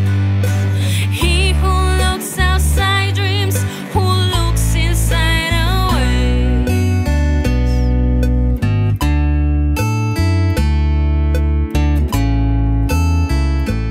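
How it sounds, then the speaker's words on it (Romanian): A full song mix exported from Cubase with the drums muted and a metronome click running through it, steady beats under sustained instruments and melody, loud and dense throughout with no talking. "am pus tobele pe mute și am dat export la întreaga piesă împreună cu metronomul și sună cam așa."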